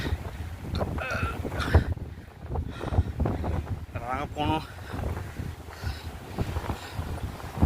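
Strong wind roars and buffets the microphone on a dangerous mountain climb, a steady loud rush with gusty surges beneath anxious talking voices.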